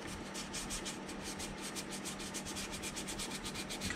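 Putty on a 1:350 scale Polar Lights TOS Enterprise model is sanded by hand in steady, quick back-and-forth rubbing strokes, close and fairly quiet, with no voices.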